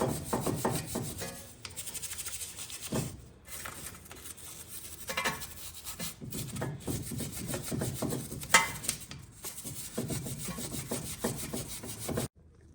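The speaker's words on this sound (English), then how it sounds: "I'm gonna clean the inside of the brake piston with a wire brush" A wire brush scrubs the inside of a brake caliper piston on a 2016-2021 Honda Civic front brake, with rapid, uneven rasping strokes broken by brief pauses, close and fairly quiet.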